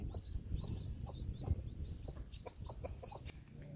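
Broody hen clucking in a small cramped brooder inside a chicken house, a steady run of soft repeated clucks over low farmyard rumble, close and continuous.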